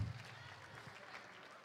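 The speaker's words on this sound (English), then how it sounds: "Give her a round of applause one more time" Audience at a STEM keynote event clapping, a brief, faint burst of applause from a crowd that fades quickly.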